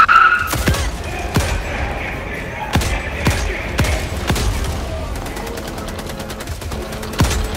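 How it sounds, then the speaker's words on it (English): Heavy anti-materiel rifle fire in the video game Helldivers II, a series of loud, sharp booming shots spaced roughly a second apart, followed by rapid faster gunfire near the end, with faint game ambience underneath. "I love the anti-material rifle,"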